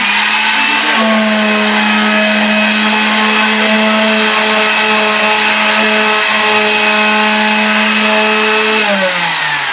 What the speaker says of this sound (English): We're going to go in with the sander now to give it a nice final touch